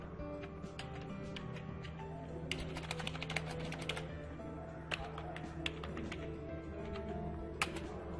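A password is typed on a computer keyboard: scattered clusters of quick, light key clicks with pauses between bursts over a low steady hum, close and fairly quiet.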